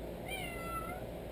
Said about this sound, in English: That's Toby meowing constantly back there.